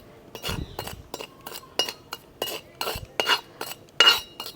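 A spoon stirring salt as it dry-roasts in a pan for lemon pickle, about a dozen quick, sharp scraping clinks in an uneven rhythm, close and fairly crisp with no talk.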